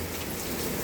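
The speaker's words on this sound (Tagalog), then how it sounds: "Ayan, malakas na naman yung ulan" Heavy rain pours steadily in Singapore, a dense, constant hiss of drops on surfaces with no gaps or voices, loud and close throughout.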